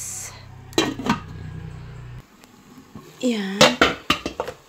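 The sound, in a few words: covering a cooking pot with its lid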